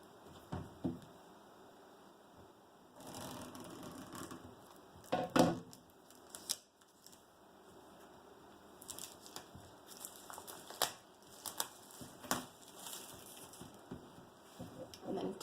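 Individually wrapped, taped packaging being opened by hand: faint, close crinkling and tearing of wrapping in scattered bursts, with quiet gaps between the crackles and no talking.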